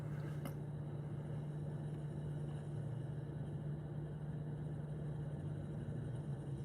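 A car engine idles inside a parked car, a steady low hum holding evenly throughout with a faint tick near the start and no talk over it.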